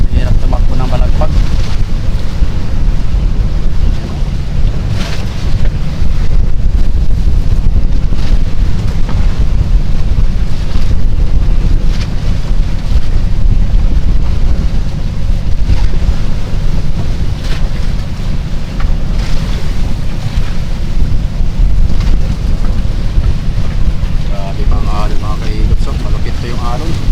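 Strong wind buffets a small boat on rough, heavy sea waves, with loud continuous wind roar and crashing water filling the whole stretch, and faint voices occasionally underneath.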